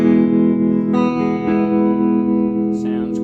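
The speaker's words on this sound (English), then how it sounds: "Right now I'm in the reverb circuit. We got some reverb and some a little bit of tremolo on." A 1978 Fender Reverb Deluxe guitar amp rings out sustained, held notes through its reverb circuit with a touch of tremolo, loud and close, with a few new notes struck along the way.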